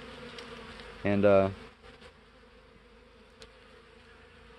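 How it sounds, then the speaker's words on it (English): Honey bees robbing an open hive in spring keep up a faint, steady buzz, with one louder, closer drone swelling briefly near the start; a single short word is spoken. "I'll let these bees that are robbing it clean the frames up, save me some work"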